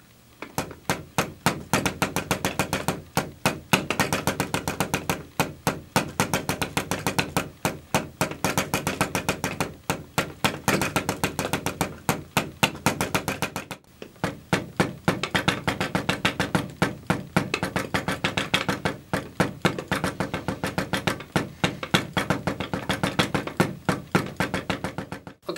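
Double bass drum pedals played with a swivel foot technique and no metronome, one foot at a time, give rapid, evenly spaced kick-drum strokes in a steady, unbroken stream with a brief pause midway.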